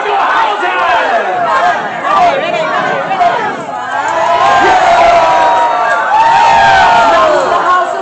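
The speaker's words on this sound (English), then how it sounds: "You cheer for the white or the red rose!" A large crowd at a Warwick Castle summer show cheers for the House of York or the House of Lancaster, with loud, sustained shouting and yelling from many voices and waves of excited hollering, including children.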